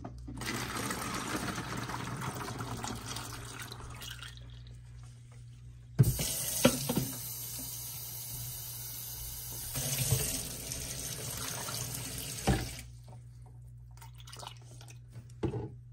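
Water runs from a tap into a small container holding fifteen cloves in a steady, continuous stream, stopping and restarting with a few knocks and clatters, fairly quiet and close.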